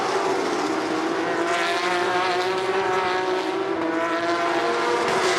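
Porsche Carrera Cup race cars at Imola, a dense, steady roar of racing engines droning continuously and loudly, like angry wasps, as the pack runs past.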